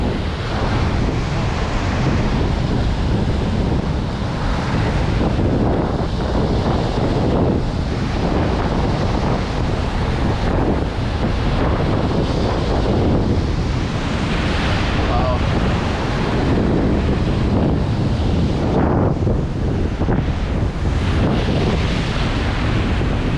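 Strong ocean surf crashes continuously against rocks on an Australian rocky shoreline, loud and close, with heavy wind buffeting the microphone throughout.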